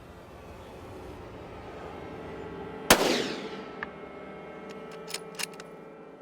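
A single sharp rifle shot cracks out at an antelope buck on a Colorado hunt, its echo rolling away across open ground, followed by a few faint clicks in otherwise quiet surroundings.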